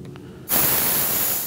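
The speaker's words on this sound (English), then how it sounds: "You can hear the gas escaping out the barrel" Sudden loud, steady hiss of compressed air rushing out of a Crosman Challenger air rifle barrel while filling, beginning abruptly after a short quiet moment and continuing without pause.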